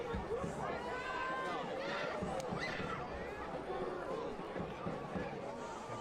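Steady stadium crowd roar and babble at a soccer match between FC Naples and Portland Hearts of Pine, a continuous dense hubbub with scattered shouts throughout.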